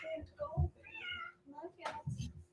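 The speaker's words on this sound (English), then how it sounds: "Give me the cat." A house cat with bad legs meows several times in quick, wavering bursts, close and fairly loud, mixed with people talking nearby indoors.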